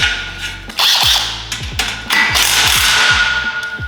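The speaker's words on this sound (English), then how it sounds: "And then we're just gonna tighten everything up." Metal clanks and ratcheting clicks from tightening screws on the supporting plate of an incline squat rack, a series of sharp, close knocks in an irregular rhythm with no talking.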